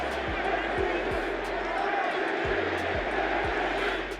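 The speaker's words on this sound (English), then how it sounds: "You hear the MVP chant." Stadium crowd at an Eagles game chanting MVP for Saquon Barkley, a loud sustained roar of many voices with rhythmic surges and low thumps throughout.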